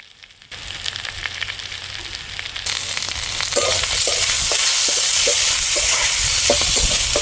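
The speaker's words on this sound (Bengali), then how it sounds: "আদা রসুনের কাঁচা গন্ধ যাওয়া অবধি ভেজে নেব" Ginger-garlic paste and ground spices fry in a pan, starting as a quiet sizzle and swelling after a few seconds into loud, continuous crackling with intermittent stirring scrapes.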